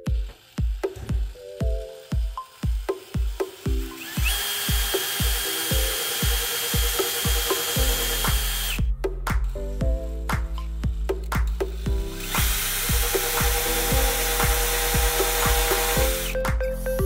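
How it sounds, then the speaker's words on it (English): A power drill bores holes through metal to bolt on bearings for a second axle carrying two sprockets, in short repeated bursts at first and then long sustained runs, loud and close. "Right now I'll be drilling out holes to bolt on these bearings that will hold the second axle"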